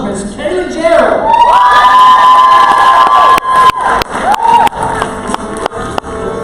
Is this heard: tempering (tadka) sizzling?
no